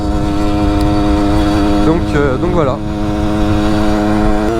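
A 50cc moped engine runs steadily with a loud, buzzing drone, rising and falling briefly in pitch midway as it is revved, while someone speaks over it.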